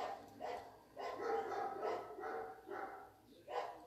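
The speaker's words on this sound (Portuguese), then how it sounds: "Cachorradinha aqui hoje tá bem bem, bem, bem falante." Dogs bark several times in a loose rhythm at moderate distance, short bursts spaced about half a second apart, heard in a home during a live amigurumi crochet class.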